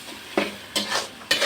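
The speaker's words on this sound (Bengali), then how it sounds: "এটাকে ভালো করে কষে নিব।" Chili powder and turmeric sauté in a hot pan, a soft sizzle broken by three quick scraping stirs of the spoon, close and fairly quiet with no speech.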